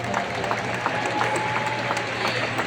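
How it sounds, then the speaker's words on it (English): Steady audience applause fills the hall at a church general conference session as the Northern Asia Pacific Division flags pass, a dense continuous patter with a crowd murmur and faint voices underneath. "It's okay to clap."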